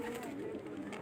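Pigeons kept on a rooftop coo in soft, throaty, rolling murmurs, close and continuous through a brief moment with faint background noise.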